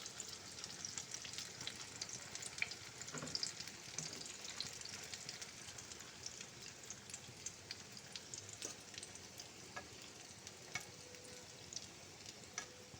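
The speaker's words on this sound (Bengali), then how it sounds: "তো মিশ্রণটা দিয়ে এরপর আমি একটা চামচ দিয়ে এভাবে চারিদিকটা ছড়িয়ে দেবো" Potato and egg mixture fries in a pan with a continuous soft, even sizzle, joined by occasional light scrapes and taps of a spoon spreading it, fairly quiet and close.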